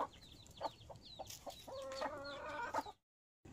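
Chickens cluck and squawk close by as they are fed, sounding in short, rapid bursts with one bird's drawn-out cackle, before the sound cuts out briefly.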